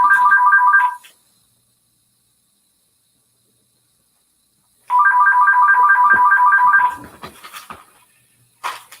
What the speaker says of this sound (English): I forgot to shut down my cell phone